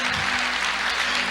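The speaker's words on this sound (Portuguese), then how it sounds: "Pode aplaudir." A church congregation applauding: a dense, loud burst of many hands clapping close by, filling the whole short moment without pause.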